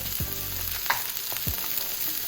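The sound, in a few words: chicken breast sizzling in hot skillet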